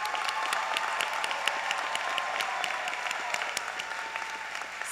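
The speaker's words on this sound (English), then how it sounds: "Audience, please join me in a round of applause for our 2024 Dean's List" An audience applauds Dean's List scholars at an honors convocation, a steady wash of clapping with individual sharp claps standing out, continuous throughout.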